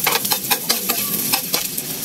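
Ginger stir-fried in a pan for a sardine-and-mackerel soup dish, giving a steady sizzle broken by rhythmic scraping stirs of a utensil against the pan, close and fairly loud with no talk.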